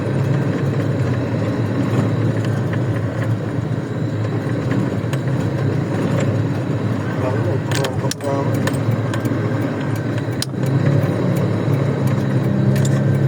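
Car engine and road noise from inside a vehicle crawling through heavy traffic, a steady broadband rumble with a few brief clicks and knocks, while people talk over it.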